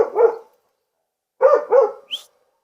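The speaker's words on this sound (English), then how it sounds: "See what's happening every time my dogs bark?" A dog barks nearby, one bark followed by a pause and then a quick pair of barks ending in a short high yip, with silence between the bursts.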